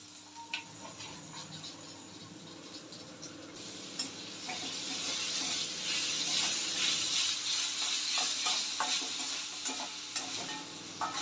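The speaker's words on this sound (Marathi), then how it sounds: "टोमॅटो चांगला शिजेपर्यंत याला फ्राय करून घ्यायचे" Tomatoes fry in a pan for a whole-lentil sabzi, giving a steady close sizzle with stirring scrapes that grow louder partway through.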